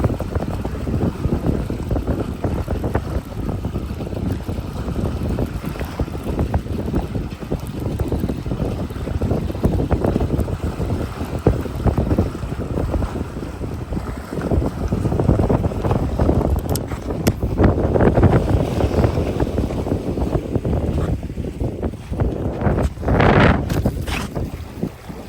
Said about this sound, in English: going against the wind. The wind's blowing north.